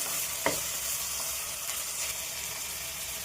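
Two chopped medium tomatoes fry with onions and turmeric in oil, making a steady close sizzle with a sharp utensil scrape near the start and no talking.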